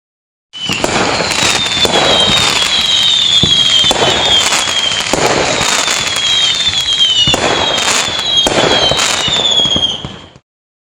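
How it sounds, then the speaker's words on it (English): Fireworks crackle and hiss in dense continuous bursts with whistling rockets, several loud sharp pops standing out over about ten seconds, no talking. "fireworks."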